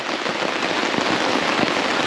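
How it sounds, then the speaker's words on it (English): Rain begins falling on a tent on the Appalachian Trail, a dense, steady patter of drops drumming close on the fabric with no talk. "it started to rain"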